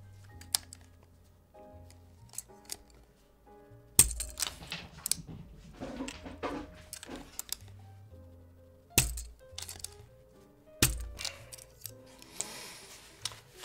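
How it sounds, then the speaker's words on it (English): Plastic keycaps being pried off an HHKB Professional Hybrid keyboard, a series of sharp clicks and clacks at irregular intervals with bursts of scraping and rattling, close and fairly quiet. "We need to take off these keycaps."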